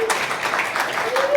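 Brief applause from a conference keynote audience, a soft wash of clapping lasting just over a second with a voice talking over it.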